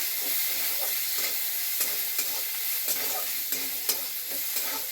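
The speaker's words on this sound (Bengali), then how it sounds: "নারকেলটা আমি একটু তেলের সঙ্গে ভেজে নেব" Grated coconut frying lightly in hot oil gives a continuous close sizzle, with sharp crackles and pops breaking through at irregular moments, and nobody speaks.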